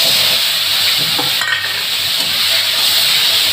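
Turmeric-laced spice paste of garlic and ripe red chilli sizzles steadily in a hot pan for a Bengali doi katla fish curry, a close, loud continuous hiss with brief stirring scrapes and no talking.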